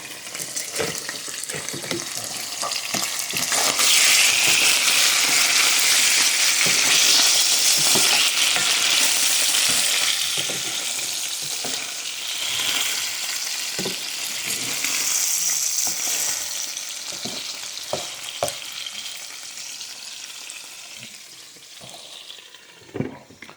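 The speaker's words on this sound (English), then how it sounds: "I turn the heat up, kind of sear that outside edge" Loud, steady sizzling of chicken searing in a hot pan over turned-up heat, with occasional pops and the clatter of stirring throughout, no voices.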